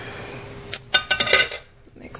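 A spoon stirring a bubbling dish in a crock pot slow cooker gives a few close metallic clinks and scrapes against the pot in a short burst, then fades to quiet room noise.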